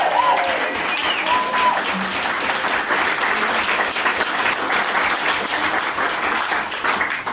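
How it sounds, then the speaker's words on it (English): Wedding guests applaud loudly and continuously during a wedding speech, with some cheering and voices mixed into the clapping. "A big round of applause to the Badias"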